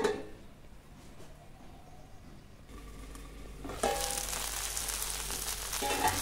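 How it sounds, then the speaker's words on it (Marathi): Okra bhaji frying in a covered pan, a steady sizzle that grows louder and brighter partway through as the steam builds under the lid. "आणि आता झाकण ठेवून 1-2 मिनिटांसाठी आपण भाजी वाफवून घेऊया"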